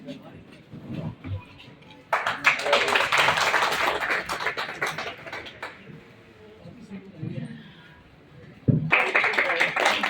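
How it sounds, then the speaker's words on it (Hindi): Two bursts of audience applause welcoming guests at a political party office birthday event, the first lasting several seconds and the second starting near the end, with voices talking before and between them. "सभी लोग तालियों से जरूर स्वागत।"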